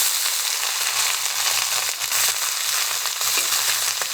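Greens with pork liver stir-frying in a hot wok with lard, ginger and garlic, a loud continuous sizzle and crackle with scraping stirs, close and steady throughout.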